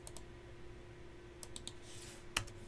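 Sparse keystrokes clatter on a computer keyboard, a few isolated clicks then a short burst of typing, close and fairly quiet over a faint steady hum.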